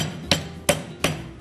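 Butterflied veal being pounded flat with a glass: four sharp, evenly spaced thuds about a third of a second apart, close and clear with no talking.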